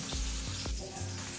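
Homemade hot sauce from fresh ingredients cooking in a pan for chicken chili, giving a close, low bubbling sizzle with a few soft pops and stirring knocks, no voices.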